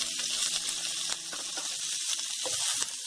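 Finely chopped ginger, garlic and sliced onion sauté in a hot pan, a steady bright sizzle with occasional stirring clicks, close and continuous with no talking.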